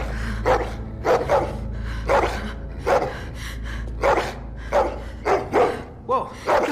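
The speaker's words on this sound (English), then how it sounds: "Oh shit, the dog." A dog in The Walking Dead: The Final Season video game barks repeatedly in loud, sharp bursts at a quick, uneven rhythm over a low steady hum.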